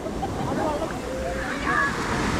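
Cold sea waves wash in and out on the shore of Butterfly Beach in South Goa, a steady broad surf wash that fills the whole stretch with no pause.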